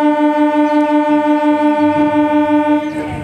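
A train pulling out of a station in the morning after the departure announcement, its steady horn-like tonal drone sustained and loud throughout, with low rumbling underneath and a shift in the final half second.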